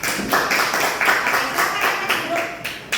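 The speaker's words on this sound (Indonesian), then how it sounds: "Kasih tepuk tangan dulu untuk Agnes." A classroom applauds a student at the end of a university lecture on company budgeting, with scattered, fairly close hand claps in loose bursts running the whole time and no voice over them.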